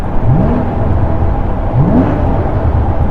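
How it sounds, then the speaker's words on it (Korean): A Porsche 981 Boxster GTS, shifted into neutral while rolling, gets two quick throttle blips, each a rising engine whine, over a steady loud drone of road and engine noise. "주행 중에 기아를 이렇게 딱 빼주고 악셀을 밟으면은 지금 보시다시피 이렇게"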